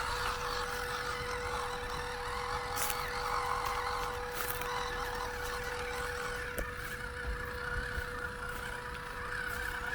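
Loud electronic speed controller of an MN82s LC79 budget RC scale crawler, a steady high whine with a sustained tone under rough driving noise, held throughout.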